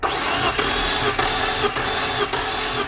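Infiniti G25 engine cranking on the starter during a valve clearance check, a loud steady churning drone with rhythmic dips roughly every half second, running continuously without speech.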